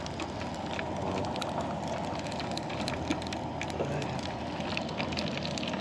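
A strong cooking fire burns at Wabamun Campground, giving a dense, steady roar with scattered sharp crackles and pops throughout, close and unbroken.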